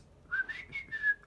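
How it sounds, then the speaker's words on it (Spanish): A person whistles a short wavering tone as a facial exercise for the cheek muscles, a few breathy rising and falling notes heard up close in a quiet room. "poner la boca para silbar. Y silbar."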